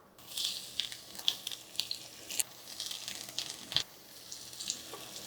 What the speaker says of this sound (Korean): 식용유를 두르고 전을 좀 부칠게요